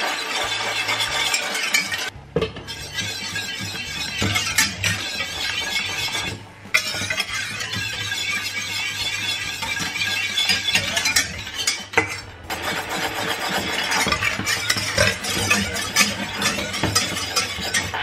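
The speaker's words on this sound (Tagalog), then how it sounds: "And just mix. until the sugar will dissolve." A spoon stirs sugar and a pinch of salt into coconut milk in a pot, producing continuous scraping and clinking of metal against cookware, with a brief pause or two, close up and with no talking.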